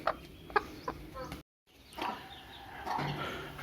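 A few chickens cluck in short bursts nearby, with a brief gap of silence midway and soft background noise.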